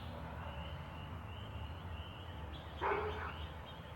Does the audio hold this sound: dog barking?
yes